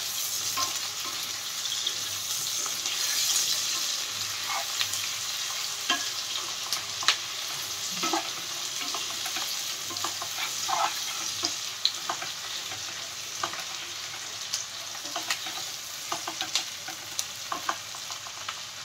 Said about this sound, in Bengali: পেঁয়াজটা একটু লাল লাল মতো ভেজে নিয়ে তারপরে অন্য মশলা অ্যাড করতে হবে।